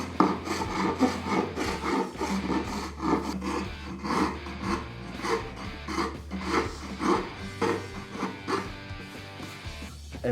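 A rasping file shapes the rounded edge of a wooden guitar kit body in a steady back-and-forth rhythm of strokes at close range, with a dog barking faintly in the background.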